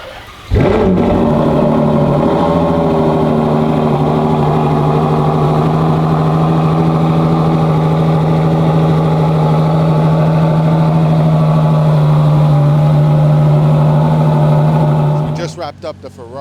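Ferrari Purosangue with an aftermarket exhaust idling, a loud, steady deep rumble that starts abruptly and holds evenly for about fifteen seconds before cutting off.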